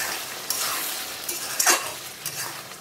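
Goat meat being stirred and fried in a pan for a Bengali Golbari-style kosha mangsho, a soft steady sizzle with a few sharper scraping strokes of the spoon against the pan.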